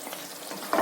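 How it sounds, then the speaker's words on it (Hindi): Green chilli chicken fries in a pan with a steady close sizzle, a brief stirring scrape swelling louder near the end. "चलिए इसको भूनने देते हैं। 5 मिनट के लिए भूनते हैं।"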